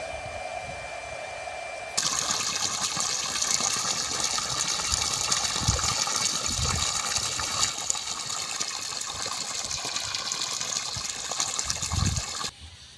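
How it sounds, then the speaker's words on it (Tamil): Water gushes steadily and loudly from the 1.5-inch outlet of a 4000 W Selkon borewell pump drawing from a 600-foot bore, starting abruptly and pouring continuously before cutting off near the end, with no voices. "டிரைவ் ஆன ஒரு 3 செகண்ட் 4 செகண்டில் பார்த்திங்கன்னா உங்களுக்கு தண்ணி வந்துடும்"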